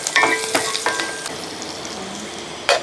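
Green chillies and curry leaves frying in a pan, with a steady close sizzle and a few stirring scrapes and clatters of a utensil, plus a brief burst of louder hiss near the end.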